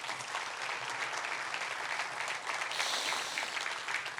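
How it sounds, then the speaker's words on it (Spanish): A church congregation applauds during a sermon. Clapping fills the room in a dense, sustained wash that sounds moderately distant and holds steady in level throughout. "Dele un fuerte aplauso a Dios por eso."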